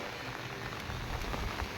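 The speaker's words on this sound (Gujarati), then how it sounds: "ના ભાઈ, અત્યારે વરસાદ ચાલુ જ છે." Steady monsoon rain pours down in Junagadh near Girnar, a dense, continuous hiss of drops on surfaces with no voices.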